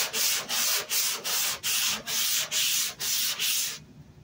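Rhythmic sanding strokes on the trunk bodywork of a 1965 Ford Mustang rasp back and forth about nine times in a steady cadence, close and loud, then stop abruptly.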